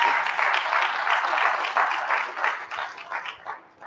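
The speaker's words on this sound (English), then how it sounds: "Come on, somebody give her a hand clap of praise." A congregation at a memorial service gives a hand clap of praise, a sustained round of moderately loud applause that swells and then thins out toward the end.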